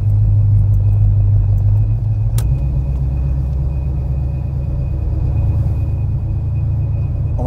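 A full-size American muscle car with power steering and power brakes drives along, its engine a deep, steady low rumble close by with road noise and no talk.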